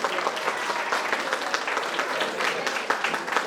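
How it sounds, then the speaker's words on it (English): Applause from an audience at a Model United Nations committee session fills the room, with dense steady clapping that stays loud and even throughout, with no voices standing out. "So please give them a huge round of applause."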